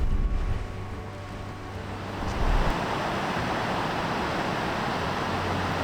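Ocean surf breaks at the beach at Cape Disappointment on a stormy day as a loud, steady broadband roar with a swell building around the middle, close and continuous, with no voices.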